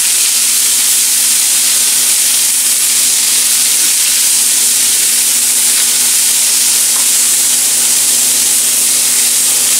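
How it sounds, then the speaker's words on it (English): Vegetables being browned and tossed in a hot pan give off a loud, steady sizzle and hiss that holds unbroken for the full stretch, with no talking over it. "browning the vegetables down a little bit in the pan"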